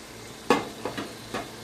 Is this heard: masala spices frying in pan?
yes